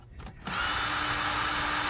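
A power tool drives a bolt down through oil-filled holes in a hydrostatic drive housing, a close steady whirring drone that starts abruptly after a short quiet moment and runs on evenly.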